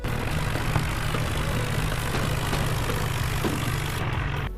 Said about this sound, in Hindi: टोचन करने के लिए ट्रैक्टर को कनेक्ट किया और हमने टोचन किया